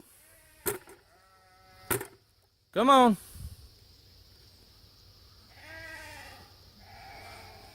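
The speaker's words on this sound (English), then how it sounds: "The sheep are hungry and ready for some feed." Hungry sheep bleat on a farm among chickens, with one strong, close, wavering bleat and a fainter, longer bleat later, mixed with sharp knocks and a person's brief speech.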